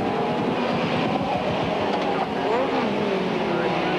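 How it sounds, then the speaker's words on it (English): Two-litre touring race cars of the 1990 British Touring Car Championship race past on the Donington Park circuit, a dense, continuous roar of engines close by with rising and falling passes, with faint voices in the mix. "here are the 2 litres, John Cleland leading"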